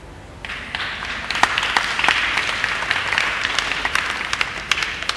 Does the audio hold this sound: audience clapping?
yes